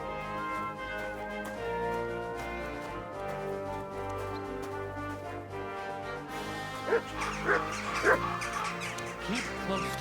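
Mutt, a dog in the video game Kingdom Come: Deliverance 2, gives a few short barks and yips over a steady musical and ambient bed in a medieval town, with hoof clip-clops nearby.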